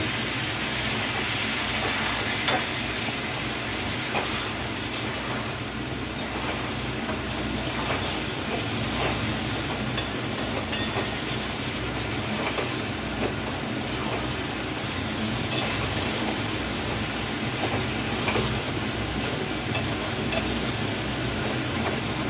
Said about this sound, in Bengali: দেখো মশলাটা ভাজা হচ্ছে